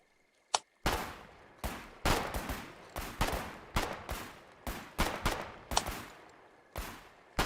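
Pistol shots in RimWorld, a run of about a dozen sharp, loud reports spaced irregularly, each with a brief tail, following one isolated early shot.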